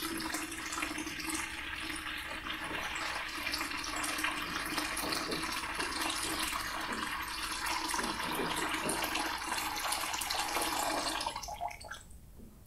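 Water poured from a cylinder into a bucket in an air pressure experiment, a steady loud splashing gush that runs unbroken for about eleven seconds before tapering off abruptly.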